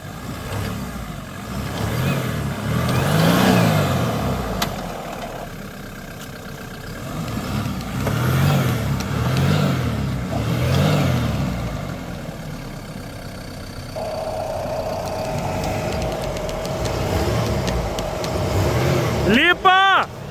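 A stuck car being winched out of deep mud revs its engine in long surging bursts with the wheels spinning, while people talk loudly over the noise and a brief sharper squeal comes at the end.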